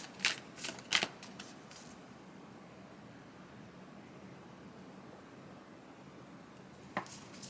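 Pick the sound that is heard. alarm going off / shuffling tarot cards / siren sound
shuffling tarot cards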